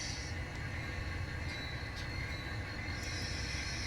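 N scale model train cars rolling forward through a CSX yard layout, a steady low rumble of wheels on track with faint high squeaks, continuous and close throughout.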